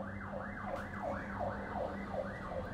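An ambulance siren passes outside, a faint, distant wail sweeping steadily up and down in repeated cycles, with no talking.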